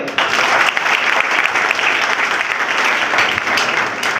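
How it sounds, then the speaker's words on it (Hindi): An audience at a public talk claps loudly and steadily for about four seconds, a dense clatter that ends abruptly. "ताली बजाइए।"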